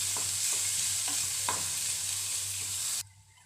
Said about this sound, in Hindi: ये मैंने एक फ्राई पैन के अंदर 1 चम्मच ऑयल लिया है, इसके अंदर हम प्याज डालेंगे।